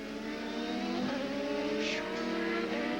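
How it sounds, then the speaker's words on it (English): Champ Car open-wheel race cars at the 2007 Mont Tremblant Grand Prix roar past, a continuous loud, high-pitched engine drone with a brief rising whine as one car passes close, no voices over it. "Actually, that's Will Power in car number 5, moving by Johnny."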